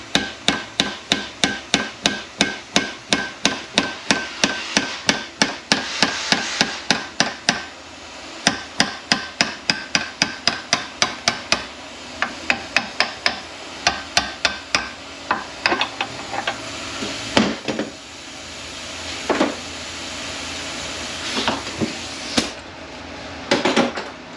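Repeated sharp hammer strikes stake the nut on a 722.964 automatic transmission, loud close metallic taps in fast regular bursts with short pauses, thinning to a few scattered knocks toward the end.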